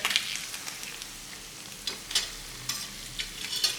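A butterflied Cornish hen frying in a pan over heat turned up high, giving a steady close sizzle with scattered crackles and a few brief utensil scrapes, no voices.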